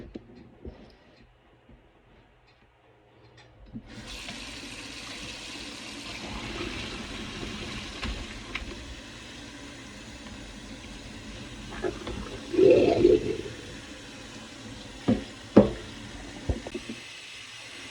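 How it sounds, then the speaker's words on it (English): Boiled chitterlings rinsed under running tap water, which switches on after a few seconds of near-silence and then flows steadily close by, with splashes and a couple of knocks of the pieces against the sink toward the end, no talking. "So after I boil the unclean chitlins, I'm going to rinse them."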